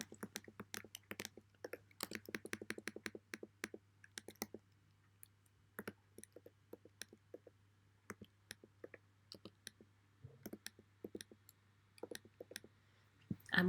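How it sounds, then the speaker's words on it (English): Numbers are typed into a statistics spreadsheet on a keyboard, heard as quick, close, quiet key clicks in short bursts, busiest early on and thinning to scattered taps with pauses later. "So I'm just going to type that information in."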